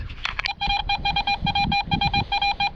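A metal detector emits a rapid series of steady electronic beeps in bursts, fairly loud and close, with faint rustling underneath.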